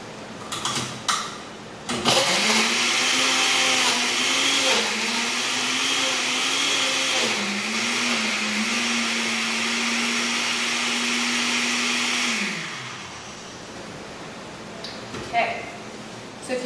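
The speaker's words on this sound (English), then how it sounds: "And then I'm going to put on the blender" A blender whirs through mango and banana for ice cream, starting abruptly, holding a loud steady drone with slight pitch dips for about ten seconds, then winding down, with brief clatter before and after.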